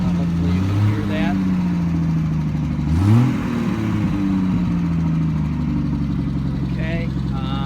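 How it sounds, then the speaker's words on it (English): Car engine just started and revved a few times, a moderate rumble swelling in short throttle blips over a steady idle, with people talking nearby. "why don't you gun it a couple times and hear the engine."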